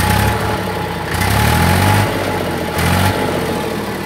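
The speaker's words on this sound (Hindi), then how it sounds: "देखो कितनी प्यारी आवाज़ आ रही है ट्रैक्टर की" A 2005 Sonalika 35 DI tractor with about 11,000 hours idling, its diesel engine chugging loud and steady up close, swelling slightly a couple of times.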